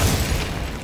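A Glacius ice spell is cast in Hogwarts Legacy, a brief, dense burst of crackling noise with a heavy low thump, loud and close.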